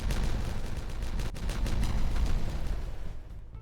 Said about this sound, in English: There are explosions everywhere this episode.